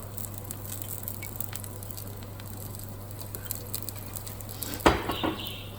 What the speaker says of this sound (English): You hear that little sizzle from the pan?